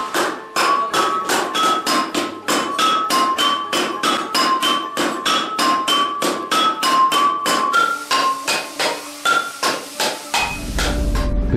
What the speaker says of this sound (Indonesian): disusul dengan suara palu yang beradu dengan lempengan logam